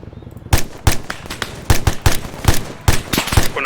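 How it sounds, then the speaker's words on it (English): Gunfire in ArmA 3 during a platoon training exercise: a series of sharp, loud shots in irregular quick bursts, some single and some doubled, with a faint voice beneath. "100 meters, rapid fire."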